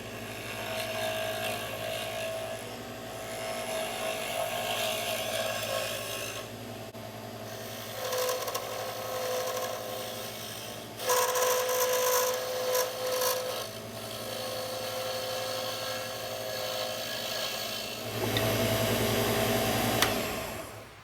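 Hawthorn wood pen blank turning on a lathe, a steady close rasping and scraping of the tool against the spinning wood that runs throughout with brief louder bursts, no talk.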